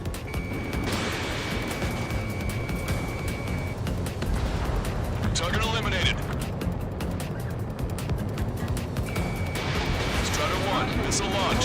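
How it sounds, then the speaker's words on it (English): A missile launches in the Ace Combat 7 jet combat game, its whoosh buried in a constant roar of engine and gunfire noise, with a steady high warning tone sounding at the start and again near the end. "Missile launched."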